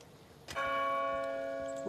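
A church bell in the Far Cry New Dawn video game strikes once, loud and close, then rings on with a long, steady humming tone that slowly fades.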